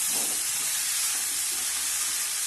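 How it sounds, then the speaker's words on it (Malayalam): Sliced potatoes and chopped spinach leaves hiss and sizzle in a frying pan as they are mixed, a close, even, continuous fizz with faint stirring and no talking. "മിക്സ് ചെയ്ത് വെച്ചിരുന്ന ഇല ഇട്ട് കൊടുത്ത് നല്ലതുപോലെ ഒന്ന് മിക്സ് ചെയ്യണം"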